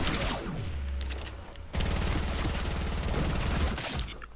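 Video game gunfire rattles in dense bursts, a rapid automatic volley after a short pause, loud and close throughout.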